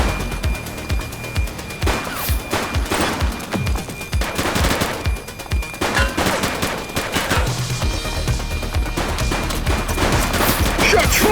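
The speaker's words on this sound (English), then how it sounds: "Shots fired!" Bursts of automatic gunfire and single shots ring out in The Precinct, a retro police simulator game, loud and dense over about eleven seconds, with rattling volleys, sharp cracks and booming impacts.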